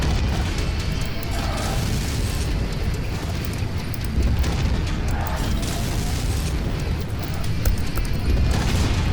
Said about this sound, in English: Oh, big PPC hit.